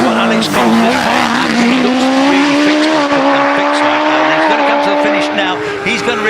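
Race car at the Shelsley Walsh hillclimb screams toward the finish, a loud high-revving engine note climbing steadily with gear changes, close and sustained, while a commentator talks over it.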